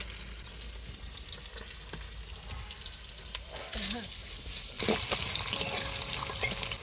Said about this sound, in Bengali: চিংড়ি মাছটা দিয়ে ভালো করে ভেজে নেব কেটে রাখা পেঁয়াজ আর কাঁচা লঙ্কাটা দিয়ে দেবো